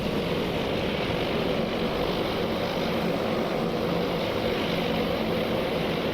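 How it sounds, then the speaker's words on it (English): Aircraft engines in the Task Force Admiral naval combat game, with carrier planes diving toward the Japanese carrier Shokaku: a steady, dense propeller drone that holds level throughout without speech. "As they dive in, a Japanese aircraft is trying to land on Shokaku"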